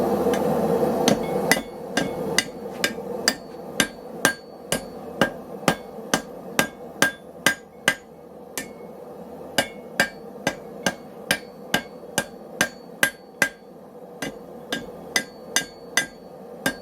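Hammer blows ringing on hot metal over an anvil while a square piece is forged into a circle and then an oval, a long even train of sharp metallic strikes about twice per second, loud and close with no voices.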